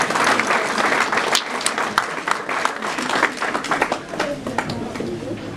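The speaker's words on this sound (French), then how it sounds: "Nous pouvons acclamer pour mamie." A church congregation claps and applauds for a grandmother during a consecration service: dense, sustained clapping throughout. Voices and cheering can be heard in the crowd.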